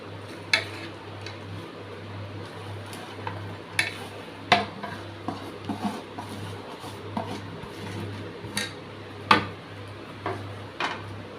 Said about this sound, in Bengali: খুন্তি দিয়ে একটু নেড়ে নিলাম